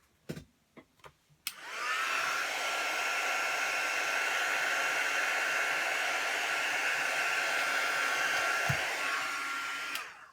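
A hair dryer switches on after a few clicks and blows steadily for about eight seconds to dry paint on a Christmas bauble card, a loud, close, even whoosh that ends abruptly.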